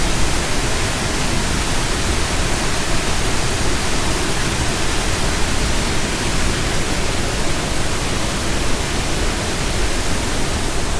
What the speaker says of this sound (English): you can see the water rushing down there too